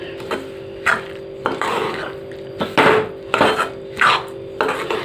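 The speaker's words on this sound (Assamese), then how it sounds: "তিলখিনি মই কাঁহীখনলৈ বাকি ল'লোঁ" Hot roasted sesame seeds are scraped and tipped into a bell-metal plate, giving a series of close, irregular metallic clinks and scrapes over a faint steady background hum.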